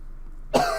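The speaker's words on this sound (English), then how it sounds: "Excuse the coughing" A single short cough from a sick person, close and fairly loud, bursting out after a near-silent pause.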